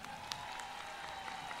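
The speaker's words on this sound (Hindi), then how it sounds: "जोरदार ताली बजाओ" Applause from an audience at a Hindu devotional katha gathering, a steady dense wash of clapping that holds evenly throughout, moderately distant and filling the space, with no voices over it.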